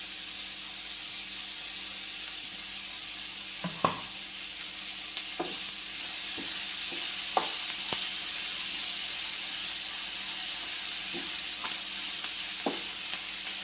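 Curry leaves, ginger and garlic fry in hot oil with a continuous soft sizzle, broken by occasional light scrapes and clinks of stirring, with no talking.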